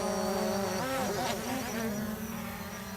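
A steady high-pitched whirring hum of a small Lily camera drone, its pitch shifting slightly as it flies a loop around nearby, fairly faint.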